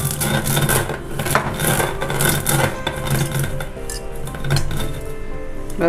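Cashew nuts being broken apart by hand for a Diwali sweet, a steady run of close, sharp cracks and dry clicking rubs repeating in quick irregular bursts, with no talking.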